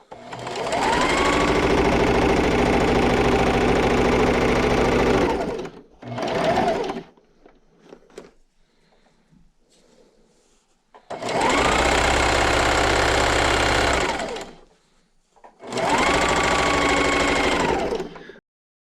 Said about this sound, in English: I'm going to backstitch. And then just keep sewing.